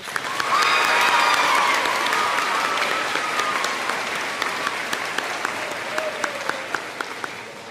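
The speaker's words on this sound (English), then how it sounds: "Please give Madison one more round of applause." An audience at a middle school eighth grade moving-on ceremony applauds a student speaker with sustained, crisp, steady clapping that swells early, then holds and slowly fades over nearly eight seconds, with faint voices and a hint of cheering.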